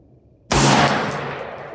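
A rifle shot strikes a small steel gong target at long distance, a sudden loud crack with a sharp onset after a brief quiet, followed by a ringing metallic tail that decays slowly.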